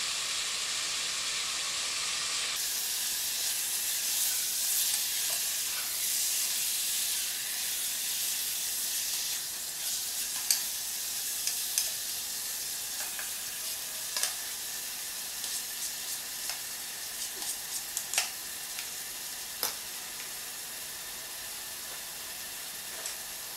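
Hamburger meat browning in a pot for gluten-free macaroni: a continuous, close frying sizzle and hiss across the whole stretch, with occasional sharper pops and crackles, and no one speaking.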